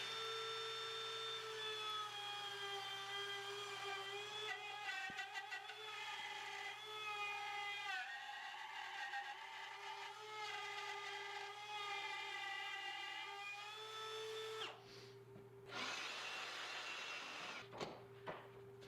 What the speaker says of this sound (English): then clamp my template down and route this thing away